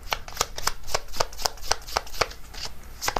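Tarot cards are shuffled and drawn in a quick run of crisp riffling snaps and flicks, close and fairly loud, with no talking.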